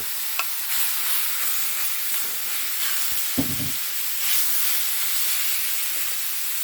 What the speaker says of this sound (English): En dan gaan we dat vlees broden.